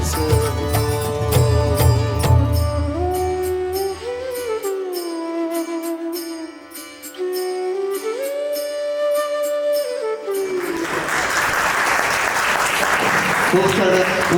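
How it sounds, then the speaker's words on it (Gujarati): Audience applause bursts out as a Ganpati devotional song ends at a Bardoli Kshatriya community annual convention; the music fades into a loud, dense wash of clapping that fills the final few seconds. "ખૂબ તાળીઓના ગડગડાટથી વધાવી લઈએ"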